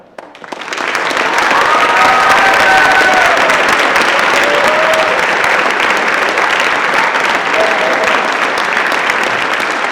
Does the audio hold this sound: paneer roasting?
no